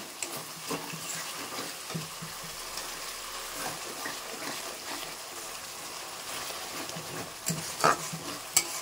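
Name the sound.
sautéing spices with salt and turmeric in oil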